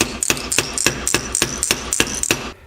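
A hammer taps rapidly and rhythmically on metal coated in thick paint to loosen it, about a dozen crisp, close, evenly spaced strikes.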